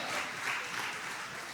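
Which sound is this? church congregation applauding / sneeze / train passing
church congregation applauding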